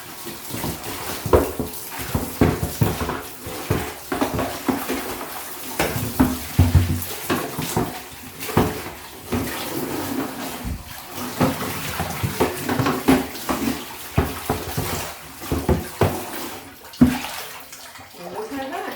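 Running water rinses out a plastic bucket after stain and grime cleaning, splashing and sloshing steadily at close range for the whole stretch, with scattered knocks of the bucket under occasional talk.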